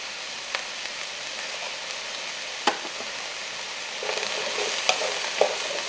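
Mushrooms seasoned with salt and pepper fry in a pan with a steady, even sizzle, close by, broken by a few sharp crackles and pops, with no voices.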